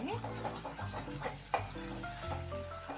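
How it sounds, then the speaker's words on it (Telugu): Ginger garlic paste frying in hot oil and being stirred steadily in a pan, a continuous close sizzle with scraping stir strokes throughout, no talking. "మనం దగ్గరుండి కలుపుకుంటూ ఉండాలి అలా కలుపుకుంటూ ఉంటేనే కింద అడుగంటకుండా చక్కగా వస్తుంది"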